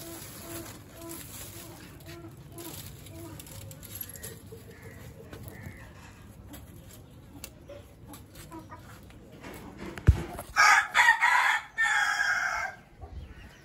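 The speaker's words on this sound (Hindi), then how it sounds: "अभी भी बस हम मुर्गियों को दाना डालेंगे अंदर ही।" Chickens cluck and squawk nearby, with a louder burst of fowl calls near the end over faint background noise.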